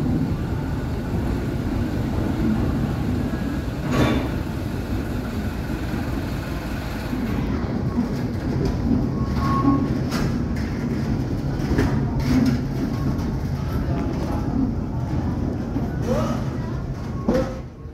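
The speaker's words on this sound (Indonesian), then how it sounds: "ini ada kereta wisata yang stasiun tempat naiknya ada di seberang kantin Museum Transportasi" A tourist train at the Transportation Museum rumbles steadily nearby, a continuous low mechanical drone with occasional clanks and brief higher squeals, no voices over it.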